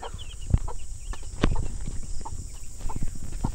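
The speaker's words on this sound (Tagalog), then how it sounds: "yung ating mga sisiw. Ayan, namanuka na sila dyan." Small chicks cheep softly while scattered sharp taps of pecking sound nearby, irregular and close, with no talking.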